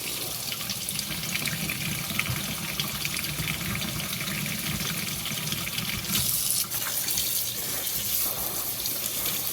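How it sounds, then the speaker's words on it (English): Hot water pours steadily from a household tap into a sink, set to run as hot as it will go to soak fabric cornhole bags; a continuous, close, fairly loud splashing rush with no talk. "I'm just going to do it as hot as my water will come out of the tap"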